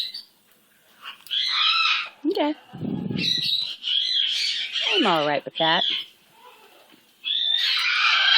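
Pet parrot Gonzo gives short, sharp squawks and chirps scattered through the clip, close by and fairly loud, alternating with a person talking softly to the bird.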